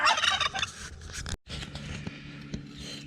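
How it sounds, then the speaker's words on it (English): Several turkeys gobble loudly in a farmyard, a dense burst of warbling calls at the start, then quieter scattered gobbles after a brief pause. "right now the turkeys want to show off a little much"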